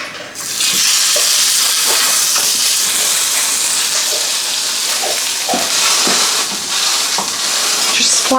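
Food sizzles and hisses loudly in olive oil in a pan, a continuous bright frying crackle held throughout with faint stirring clicks underneath.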